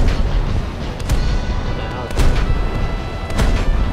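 Artillery fires in a naval-versus-ground-forces video game: a steady, loud rumble of gunfire and booms, with sharper blasts near one, two and three and a half seconds.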